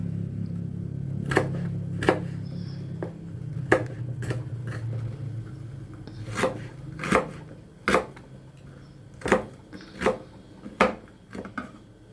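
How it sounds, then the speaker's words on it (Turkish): Carrots being chopped into small pieces: a dozen or so crisp knife strikes on a cutting board, irregularly spaced and fairly close, with a low background hum and no talking. "Şöyle küçük küçük havuçlarımızı doğrayacağız."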